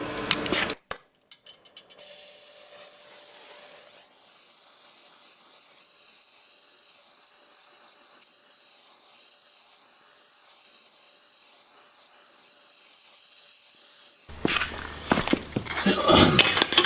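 A steady roaring hiss of a torch flame heating a stuck spark plug runs continuously for over ten seconds, bracketed by clanks and handling noise at the start and end.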